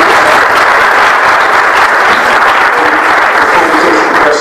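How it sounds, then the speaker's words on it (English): A large audience applauds steadily and loudly, dense clapping filling the whole stretch without pause. "We'll give him another round of applause."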